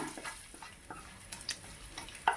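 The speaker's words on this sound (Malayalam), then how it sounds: "തേങ്ങാക്കൊത്തും കാഷ്യൂ കൂടെ ആദ്യം നമുക്കിങ്ങനെ ഫ്രൈ ചെയ്ത് മാറ്റാം" Coconut pieces and cashews fry in hot ghee with a faint, steady sizzle, broken by a few soft scrapes and light clinks of a utensil in the pan, quiet and close.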